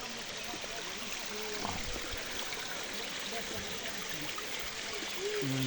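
Spring water flowing down in a city park in Xonabod, a steady close trickling stream that runs on without a break while people speak briefly nearby.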